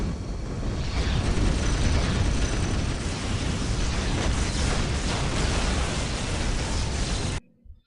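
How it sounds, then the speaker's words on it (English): Bombers pound the field in Warhammer 40K Dawn of War Soulstorm, a loud, dense roar of blasts and rumbling debris that runs continuously for several seconds, then cuts off sharply into near silence. "You call for an airstrike. Bomber on the way."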